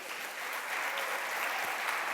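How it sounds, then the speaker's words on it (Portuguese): A church congregation claps steadily for a couple of seconds during a sermon, a dense, even wash of applause with no voices over it. "você pode aplaudir a Jesus"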